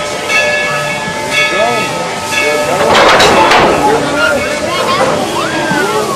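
A tourist train rolls along with a steady rumble and squealing wheel tones, plus a burst of hissing midway, while passengers talk in the background throughout.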